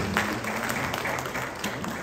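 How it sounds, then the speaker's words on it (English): An audience at an African Union discussion gives a round of applause, a full, even roar of clapping hands at moderate loudness with no speech over it. "So let's give a round of applause to our Creator."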